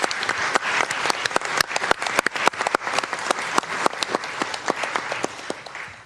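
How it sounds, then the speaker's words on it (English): An audience at a joint city council meeting in Mountain View applauds city staff with a crisp, steady round of many hands clapping, with scattered sharp claps and no voices. "Can we give them all a round of applause,"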